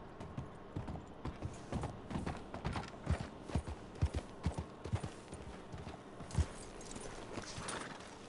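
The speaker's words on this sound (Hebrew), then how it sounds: "מצאתי חמור" A donkey walking on hard ground, its hooves clip-clopping in a steady, fairly close rhythm over faint background noise, with no talking.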